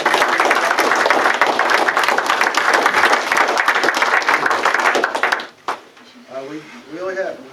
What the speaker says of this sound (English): Okay, I'd like to give a quick round of applause.